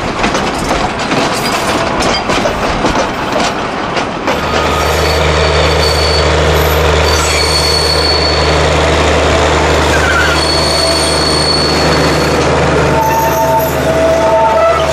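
A small narrow-gauge locomotive rolls by on rails at the Old Threshers reunion in Mount Pleasant, Iowa, with clanking and rattling, then settles into a steady, droning engine hum with faint squeals and hisses.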